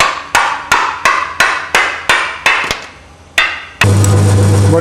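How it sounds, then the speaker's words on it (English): A hammer taps a pin through a part while building a Jaguar XKSS car, striking about nine sharp, evenly spaced metallic blows up close, followed by a steady hum. "Slight tap with a hammer."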